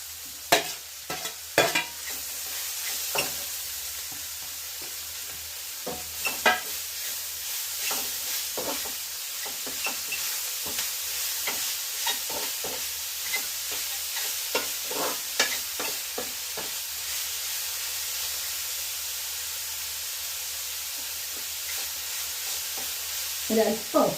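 Green chillies, beans and carrot frying in a pan for cutlet filling, a steady loud sizzle running throughout with repeated scraping stirs of a spoon against the pan, close and continuous, no talking.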